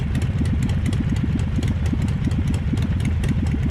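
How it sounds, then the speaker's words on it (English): A motorcycle engine runs close by in a steady, even chug of rapid low firing pulses with a light mechanical clatter on top, loud and continuous with no talking. "You seen me on my motorcycle"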